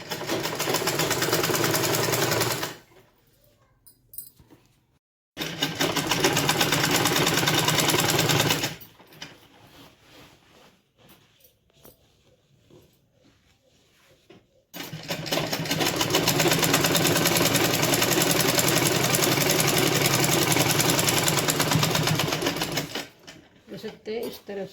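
An electric sewing machine stitching trouser fabric runs in long steady whirring bursts with pauses between them, its rapid needle rhythm close and loud, while someone talks during the quieter gaps.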